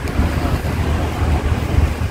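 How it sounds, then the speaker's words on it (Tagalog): Strong wind buffets the microphone by the sea, with waves and a boat on the water behind it, a steady loud low roar with no talking. "Mahangin lang talaga ngayon pero ang ganda ng tubig."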